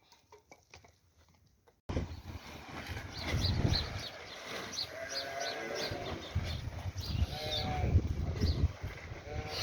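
Lambs bleat repeatedly up close amid scuffling as their play turns into rough fighting, with overlapping calls after a brief quiet start.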